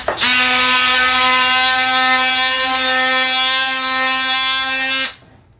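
A Dewalt 20-volt max oscillating tool fitted with a sanding attachment buzzes steadily and loudly up close for about five seconds, then cuts off abruptly.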